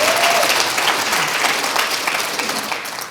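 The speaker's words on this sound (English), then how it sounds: "how about a round of applause on that comment right there?" A conference audience at a marketing summit claps together, dense sustained applause with some crowd noise that gradually tapers toward the end.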